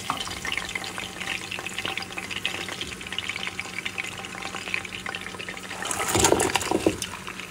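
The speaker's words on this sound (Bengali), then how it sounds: "কিছু ক্যাপসিকাম দেবো তেলের মধ্যে, নাড়াচাড়া করে নেব। পরে আমি পেঁয়াজটা দিয়ে দেবো।" Capsicum and onion frying in hot oil for a beef and potato curry, a dense crackling sizzle under constant stirring, close and steady, with a louder burst of bubbling hiss near the end.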